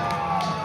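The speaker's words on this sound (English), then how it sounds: "The match starts and people are already cheering for Junior." Fans at a live local wrestling show cheer as a match begins, a short, loud burst of crowd noise with shouting voices close and continuous.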